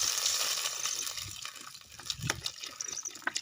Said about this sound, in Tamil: தண்ணி ஊற்றிப்போம்